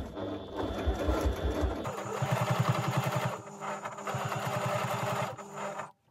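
Sewing machine back stitching the binding on an indoor slipper, a close, steady mechanical whirr in two bursts with a brief slowdown between, ending in a sudden stop.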